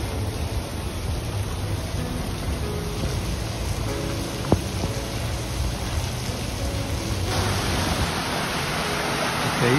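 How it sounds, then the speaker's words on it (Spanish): Heavy rain pouring down in Cuetzalan, a steady dense hiss of water falling without a break, loud and close, with no voices. "Es muy común que llueva aquí"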